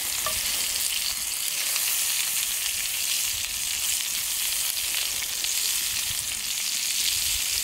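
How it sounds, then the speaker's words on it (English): Peppers and onions sauté alongside Italian sausages in a pan at a winter yurt campsite in Minnesota, giving a steady, dense sizzle throughout with no voices. "Now it's time to put the peppers and onions on. Have it sauteed."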